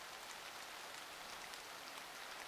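Rain falling steadily, a faint, soft, even hiss of drops on surfaces with no other sounds or voices.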